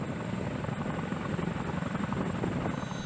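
A Chinook military helicopter flies with a dense, steady rotor thrum and broad engine roar, a continuous wash of noise at moderate distance with no voices.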